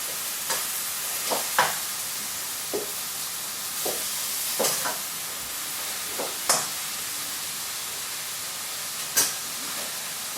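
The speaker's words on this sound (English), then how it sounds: "fry those for about 10 minutes" Chicken and leeks sizzle in a frying pan with a constant steamy hiss. Periodic scraping stirs and tosses rise above it at irregular intervals, close and fairly quiet, with no speech.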